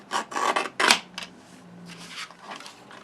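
A trimmer cuts down a sheet of card stock for a handmade card, a few quick scraping, rasping strokes up close in the first second, followed by fainter softer rubbing.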